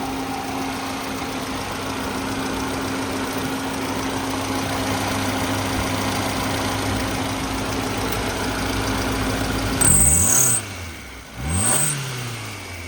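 A Hyundai Santro Xing Eco GLS, a 2011/12 model with a 1.1 litre petrol engine running on petrol plus LPG, idles steadily with an even hum, then revs twice near the end, each rise and fall sharp and close.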